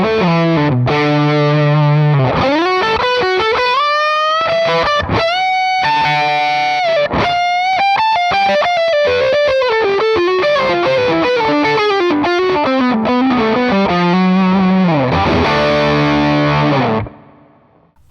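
An electric guitar played through a Jam Rattler overdrive pedal gives a driven, singing lead line with bends and sustained notes. It sounds loud and close, with no talk, and fades out at the end.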